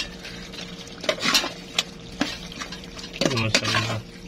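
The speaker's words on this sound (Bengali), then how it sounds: "দেওয়ার পর এটা আমি ভালো করে নাড়িয়ে নেব। আমার ফুলকপিগুলো এবং মশলার সাথে মিক্স করে নেব।" A spoon scrapes and knocks against a pan while cauliflower and tuna are stirred with spices, several distinct clanking strokes over a light sizzle, close and fairly loud.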